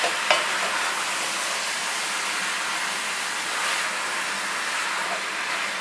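Pork with herbs and vegetables, cooking for adobo, sizzles in a pan as it is stirred, giving a steady, dense, close hiss with a few faint scrapes and no voices.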